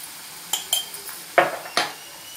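A spoon clinks against a pan while flattened rice upma with onion is stirred, giving five quiet, separate metallic taps over a couple of seconds against near silence.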